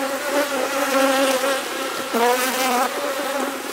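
A steady, dense buzzing of many honey bees at a hive, close and loud, with wavering drones layered together and no voices.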